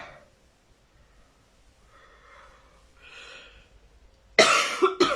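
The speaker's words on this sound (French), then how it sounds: "Moi, quand je tousse, ça veut dire qu'il y a des trucs qui sortent." After quiet breathy sounds, a person coughs loudly and close by, two harsh bursts near the end.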